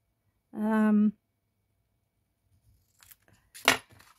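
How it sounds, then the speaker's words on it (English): Scissors cutting a piece off card while making a DL envelope, a few quick close snips near the end after a brief steady tone and a quiet pause. "So again, I'm going to cut a piece off,"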